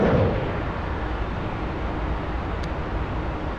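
A loud, steady rushing roar fills the cockpit of an F-4E in a DCS flight sim as an AGM-65D Maverick missile launches, holding broadband and constant with a brief faint blip near the end.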